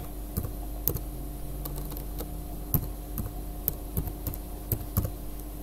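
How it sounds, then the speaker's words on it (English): Keys clatter on a computer keyboard as a username and password are entered, a run of light, irregular taps with a few louder strikes, close and alone over a steady low hum. "you hit enter yes then you type in your username and password"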